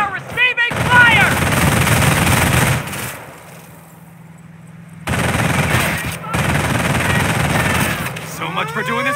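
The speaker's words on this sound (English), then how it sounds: "We are receiving fire!" Heavy machine-gun and rifle fire crackles loudly in a World War II battle in the 2006 PC strategy game Company of Heroes, coming in dense sustained bursts with a brief lull in the middle, while voices call out over the shooting.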